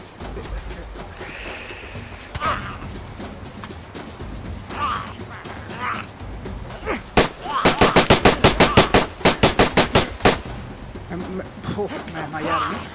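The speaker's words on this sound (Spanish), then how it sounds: "Corre, o si no dispara con el MP5." MP5 submachine gun fire in the video game DayZ, a rapid burst of sharp repeated shots mid-way, preceded and followed by lighter in-game noise and faint background activity, with talk present.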